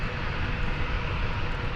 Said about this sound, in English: Here comes American Flight 1091 from El Paso,